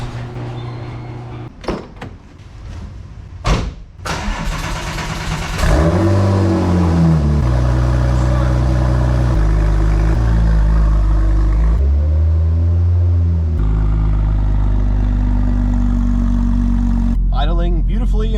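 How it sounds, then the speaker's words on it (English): A Porsche 996 911 Turbo coming to life: a few clunks and door sounds, then the engine starts with a loud rising rev that settles into a steady, close idle with further blips of throttle. "I haven't started it since, so I'm hoping it fires right up"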